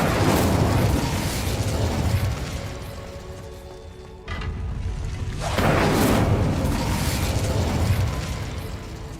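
Incendio fire spell cast in Hogwarts Legacy: a loud roaring, crackling blast that swells, drops off sharply midway, then surges again in a second fiery burst before fading.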